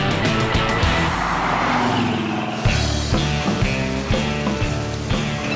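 Pontiac GTO engine roaring as the car accelerates, a loud throaty rumble that surges and then settles into rhythmic pulsing, heard close from inside the car.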